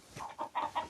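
Chicken fighting off a weasel gives a short run of four clucking calls, close and moderately loud, with no talk over them.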